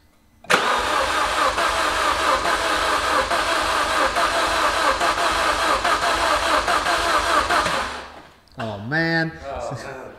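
A Vauxhall Astra VXR engine cranks and fires for its first start-up, then runs loud and steady for several seconds before shutting off, followed by voices talking.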